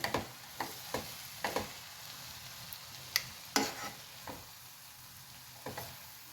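Vermicelli upma is stirred in a pan over a low flame, with a faint sizzle beneath a series of irregular scraping and tapping strokes from the spoon.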